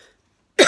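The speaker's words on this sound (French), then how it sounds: "excusez-moi si je tousse" A single short, sharp cough bursts out at the very end after near silence, close and fairly loud.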